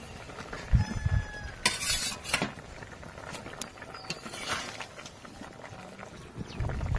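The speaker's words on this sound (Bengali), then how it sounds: "তরকারি ফুটছে, এবার আমি দিয়ে দেব মাছ, ভেজে রাখা মাছগুলো এবার দিয়ে দেব।" Fried fish is dropped into a pot of boiling curry, bringing faint clinks of utensils against metal, soft splashes and a low bubbling patter.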